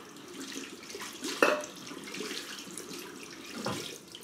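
A shaving brush is rinsed under running water to wash out the soap, a soft continuous splashing and trickling at a sink, with a brief louder splash near the middle.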